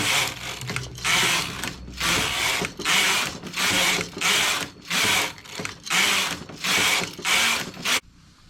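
A domestic knitting machine carriage swishes back and forth across the needle bed knitting rows of plain stockinette, about ten regular rasping, clattering passes roughly a second apart, close and alone.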